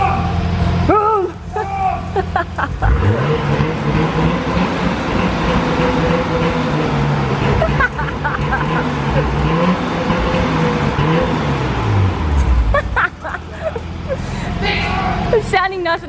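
A Nissan R33 Skyline's RB25DET engine, unrun for two years, idles and revs, rising and falling in pitch, loud and close, with a person talking over it.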